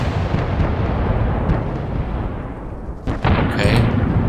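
Heavy booming cannon blasts in the video game Apocalypsis roll together into a dense, continuous rumble, with a sharper crack near the end; loud and close.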